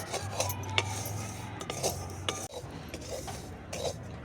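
Semolina dry-roasting in a pan for rava besan barfi, with a spoon scraping and clinking against the metal in irregular, fairly quiet strokes and no talk.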